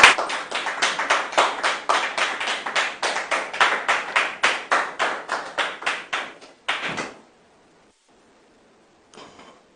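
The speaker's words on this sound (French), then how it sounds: "sous vos applaudissements" A crowd claps in bursts of rhythmic applause that fades out, then falls nearly silent before a brief faint patter returns.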